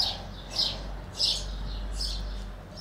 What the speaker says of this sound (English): I hope you're enjoying the sound of the birds.